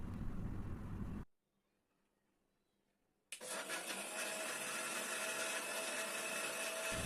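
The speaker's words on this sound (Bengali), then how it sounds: "এখন আমরা সব কিছুকে একসাথে 1 মিনিটের জন্য ব্লেন্ড করে নিচ্ছি।" A blender whirs cold coffee with ice cream: a loud motor burst stops, falls silent for about two seconds, then the motor starts again and runs steadily at full volume, with no talking.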